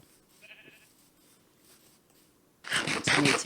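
Sheep in Minecraft give a faint, brief bleat early on, then louder rustling, scratchy game noises follow near the end; no talking.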